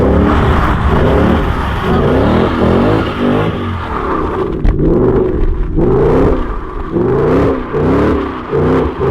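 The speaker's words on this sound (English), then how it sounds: "get some exhaust sound from far away and just revving it" A Ford Mustang GT with a Borla S-Type exhaust revs repeatedly, the exhaust rising and falling in a series of throaty bursts heard from some distance, with no voices.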